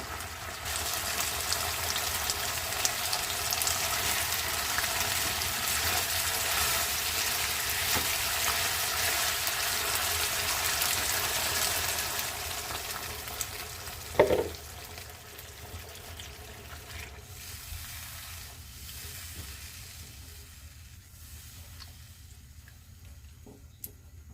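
Tomato sauce for pochero sautéing in a pan, a steady close sizzle and frying hiss that runs on, then fades quieter after a brief clatter midway.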